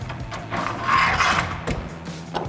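A tonneau cover clamp on a 2010-2024 RAM 2500 bed is loosened during a Retrax IX retractable cover install, giving a close, steady mechanical rasp and rubbing with faint ratchet-like ticks.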